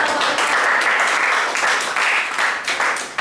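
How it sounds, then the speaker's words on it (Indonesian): Students in a classroom give their classmates a loud, brisk round of applause, many hands clapping close by in a dense, continuous patter that briefly dips and then picks back up. "Tepuk tangan untuk teman-teman dari"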